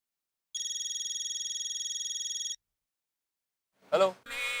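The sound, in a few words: telephone ringing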